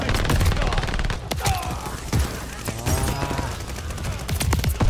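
Rapid automatic gunfire in Call of Duty: Vanguard on the cramped Shipment map, loud, close and nearly constant, with short gaps, and a player's voice talking over the shots.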